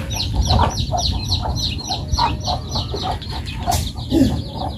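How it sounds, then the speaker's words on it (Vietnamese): Hens cluck with a brood of newly hatched chicks peeping on a farm garden in Binh Duong, Vietnam, a busy, steady chorus of short close calls with no talk. "Gà nở quá chừng."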